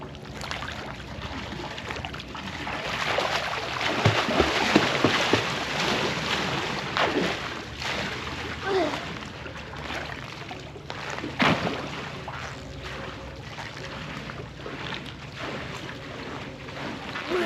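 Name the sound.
water taxi boat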